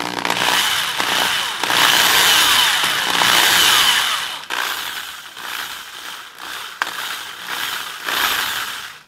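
Drill bit boring through the painted body of a cheap 3/4-size guitar: loud whirring bursts of drilling that stop and restart several times, with brief pauses between passes, close up and with no voices.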